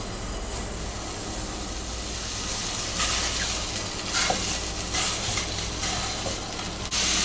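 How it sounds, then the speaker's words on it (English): Longaniza sausage sizzles and fries in a frying pan, a steady close hiss with brighter crackling bursts and occasional stirring scrapes, no one speaking. "We are going to start by cooking a piece of longaniza in a frying pan."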